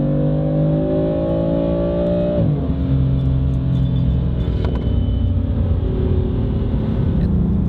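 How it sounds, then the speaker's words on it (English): A car accelerates hard with a steady, loud engine drone, and its exhaust note deepens and grows rougher partway through the run as the exhaust valves open, recorded continuously up close. "Let's do another acceleration run."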